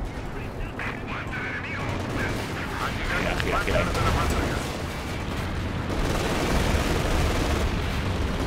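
Dense, rumbling bursts of heavy tank gunfire and explosions, including Panthers, fill a battle over a bridge in Company of Heroes 2 continuously, with someone talking excitedly over the noise.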